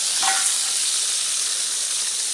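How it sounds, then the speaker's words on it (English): Onions hitting a hot plow disk discada grill outdoors, a broad steady sizzle with a brief sharper burst near the start, then continuous frying hiss for the rest, close and fairly loud with no talking. "dumping some onions."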